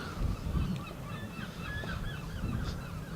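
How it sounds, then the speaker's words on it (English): Gulls calling at a cricket ground during a one-day match, their thin, wavering cries coming repeatedly at a moderate distance over a steady low rumble of background noise. "The gulls you can hear chirping away."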